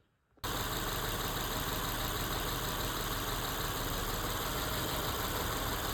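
An 07/08 Acura TL engine starts abruptly after near silence and settles into a steady, loud idle with a constant hum and fan-like whir.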